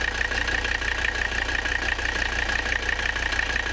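Mercedes 300CD diesel engine idling close up, a steady low rumble with a fast even clatter and a constant high whine over it, no talk.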